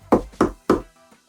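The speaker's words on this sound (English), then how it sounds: "What we'll do, knock on the wood." Knocking on a wooden surface: three firm, evenly spaced knocks close by, followed by a much fainter fourth tap, with no talking.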